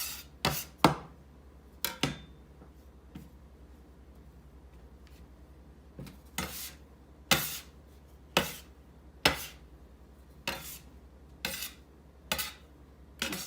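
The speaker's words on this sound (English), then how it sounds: "now I'm just going to start working my dough" Bread dough for yeast rolls is worked on a counter with a scraper, giving sharp intermittent scrapes and knocks, irregular then more regularly spaced, close and distinct over a quiet background.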